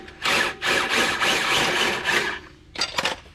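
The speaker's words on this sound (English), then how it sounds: "keep your drill or impact in reverse and just push" A power drill running in reverse, used to push out a CV axle on a 2006 Acura TL, whirs steadily for a couple of seconds, then stops, followed by a brief second burst.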